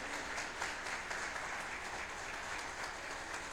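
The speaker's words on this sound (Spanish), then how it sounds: "¿Cuántos le dan un fuerte aplauso al Señor Jesús?" A church congregation applauds together during a Spanish-language sermon, a steady, fairly faint wash of clapping heard from some distance that holds for the whole stretch without any talk.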